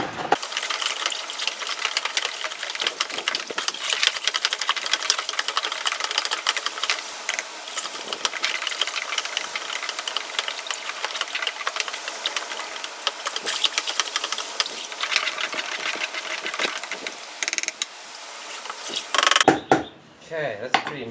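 Yeast and sugar for pineapple beer are stirred by hand in a container, a long run of close, busy clinking, scraping and rattling. It keeps going steadily for about twenty seconds and then stops abruptly.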